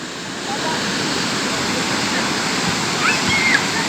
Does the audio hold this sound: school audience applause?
no